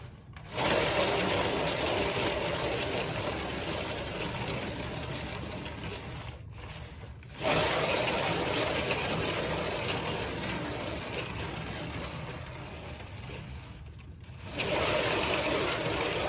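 A canvas turning on a paint-pour spinner during a sink strainer acrylic pour, a steady, close whirring motor drone that runs almost without a break, stopping twice for a moment before starting up again.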